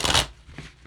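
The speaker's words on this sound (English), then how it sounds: "So I'm only shuffling once." Tarot cards being shuffled give a quick riffling burst up close, followed by a couple of softer card taps.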